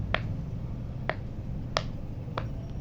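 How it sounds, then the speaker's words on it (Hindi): An imported used toy parrot gives four short, sharp clicking chirps spaced about half a second to a second apart over a low background hum, fairly faint and with no talking. "ये अमेरिकन पोपट है, ये पाकिस्तानी पोपट नहीं है। इसकी आवाज़ आप चेक करें"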